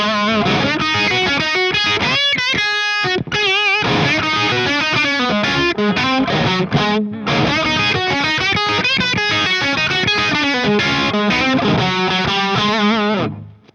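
Electric guitar plays a bluesy lead through a Friedman IR-X, bent notes and fast phrases at moderate gain, steady and loud throughout with no voices.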